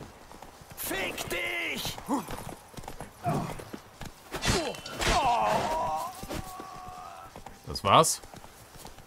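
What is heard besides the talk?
horse hooves in video game The Witcher 3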